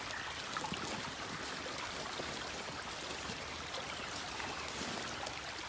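Shallow creek water trickles and babbles steadily outdoors on a nature walk, a continuous broadband rush with no talk over it.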